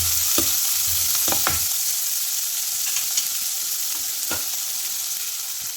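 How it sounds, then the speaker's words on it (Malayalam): Onion and green chilli sauté in a pan, giving a constant bright sizzle broken by a few sharp spatula scrapes spread over several seconds, close up, with no voices. "2 പച്ചമുളക് അതുകൂടി ഇട്ട് കൊടുത്തൊന്ന് സോട്ടാക്കി കൊടുക്കാം."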